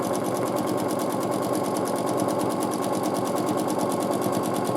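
A sewing machine runs steadily at high speed while free-motion quilting a feather motif on a border, its needle chattering in a fast, even rhythm, close and loud throughout with no talking.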